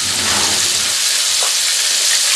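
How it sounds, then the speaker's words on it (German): Vegetables sizzle steadily in a frying pan, a continuous bright hiss holding at an even level throughout, with a faint stir or clink midway. "das Gemüse brutzelt vor sich hin"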